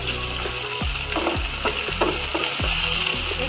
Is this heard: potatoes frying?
yes